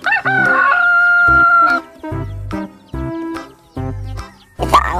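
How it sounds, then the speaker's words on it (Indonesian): A red rooster crows loudly and close, with several long cock-a-doodle-doo calls and shorter crows in quick succession, layered over a harmonic toy-like musical backing. "Dan ini ada ayam jago teman,"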